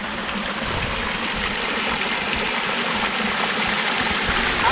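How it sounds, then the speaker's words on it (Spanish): A small waterfall feeds a running stream at a campsite in San Carlos, Baja California, producing a loud, dense, continuous rush of water up close, with no talking. "Mira la cascada que está ahí."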